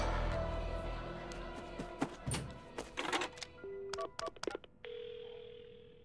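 A telephone is picked up and dialed in the video game Paranormasight: clunky handling noises, a series of short button beeps, then a steady dial tone humming alone at the end.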